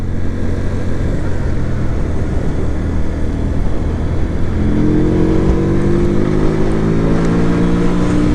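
A QJMotor SRV 125 cruiser motorcycle runs at road speed with a loud, steady engine drone heavily masked by wind rush. Partway through, the engine note climbs gradually as it pulls harder, with no speech.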